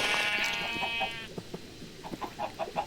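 Bleating sheep from a video game, a long harmonic bleat at the start followed by a string of short, softer bleats.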